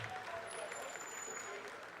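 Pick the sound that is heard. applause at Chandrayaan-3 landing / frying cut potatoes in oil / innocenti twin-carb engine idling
applause at Chandrayaan-3 landing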